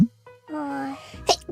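A single sharp sneeze bursts out up close, followed by a short vocalized sound and then someone speaking.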